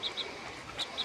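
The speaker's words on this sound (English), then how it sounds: "And this is yellow bellied greenfinch." Yellow-bellied greenfinch calling outdoors while birding at Kewzing, Sikkim: four short high chirps in two pairs, fairly clear over a hissy background.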